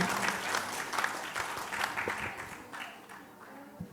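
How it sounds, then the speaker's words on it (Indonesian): Lively audience applause at a cultural forum in Yogyakarta, a dense burst of clapping that gradually thins and fades toward the end, with a few scattered claps trailing off. "Yuk kita berikan waktu dan tepuk tangan yang meriah untuk Mbak Ira dan Bang Masdar."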